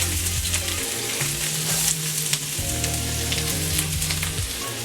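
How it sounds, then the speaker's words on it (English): Onions sizzle in sesame oil in a wok, a loud, steady frying crackle with stirring scrapes, under a low droning hum that shifts pitch in the background. "we're gonna add a little bit of sesame oil. And the first veggies we'll add is our onions"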